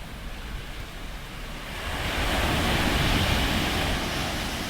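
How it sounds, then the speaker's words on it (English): Ocean surf breaking on the beach along the Malecon at Puerto Vallarta, Mexico, a steady broadband wash that swells louder midway and holds, with no voices. "love the sound of the ocean"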